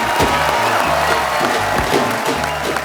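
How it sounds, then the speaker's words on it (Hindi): A studio audience at a comedy show bursts into steady, dense applause that holds loud and even throughout, with a few cheers mixed into the clapping. "एक रिश्ता साझेदारी का की पूरी टीम के लिए जोरदार तालियां।"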